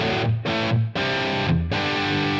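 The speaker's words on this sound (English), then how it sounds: "Some really, really great overdriven tones." Overdriven electric guitar through a Line 6 Helix amp model, playing loud, sustained distorted chords in three bursts separated by short gaps, with no voices.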